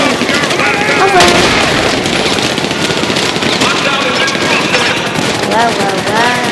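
Heavy automatic gunfire and blasts in the game GTA 5 set in Los Santos, a loud continuous barrage of shots with a person talking and exclaiming over it.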